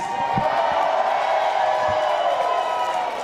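A rally crowd at a US Senate campaign announcement in Texas cheers and whoops in a steady, dense roar, with occasional louder shouts breaking through the sustained noise.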